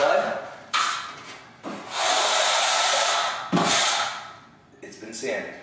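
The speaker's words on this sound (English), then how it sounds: "I'm just scraping away any little bit of mud." Dried drywall joint compound being scraped off a basement ceiling seam with a trowel, several long, loud rasping strokes separated by brief gaps, close up.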